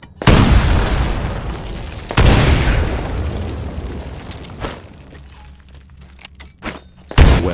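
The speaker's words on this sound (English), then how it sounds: "Throw a grenade into each of the windows." Grenades explode in Titanfall weapons training, with three heavy booming blasts spaced a couple of seconds to several seconds apart, each with a rumbling decay, and scattered clicks and thumps between them.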